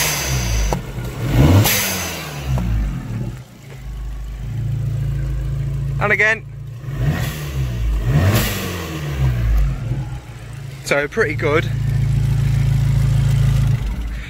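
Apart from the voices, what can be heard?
car engine revving with switchable dump valve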